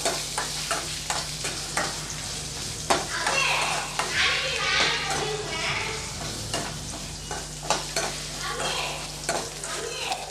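Pieces of coconut are sautéed in a pan for chicken curry, with a steady crackling sizzle and frequent clattering stirs of a ladle against the pan, close by.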